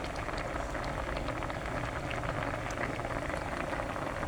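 Fish simmering in coconut milk for ginataang tambakol, a steady close bubbling boil that crackles evenly throughout without pause, no voices over it.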